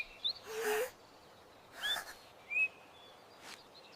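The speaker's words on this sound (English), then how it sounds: "And birds sing quietly." Soft, high bird chirps come in a few brief separate calls, quiet and somewhat distant, with gaps of near silence between them.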